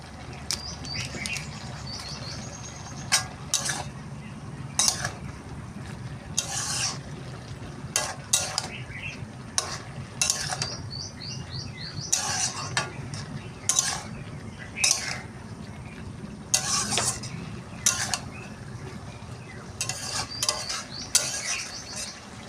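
Pumpkin greens with boiled stems and potato, plus whole poppy seeds and sugar, are stirred in a frying pan. Repeated scraping and clattering strokes of a spatula come in irregular bursts over a low background sizzle, with no talking.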